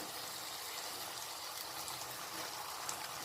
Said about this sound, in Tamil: சேர்த்து கொஞ்சமாக தண்ணி ஊற்றிக்கிறேன்.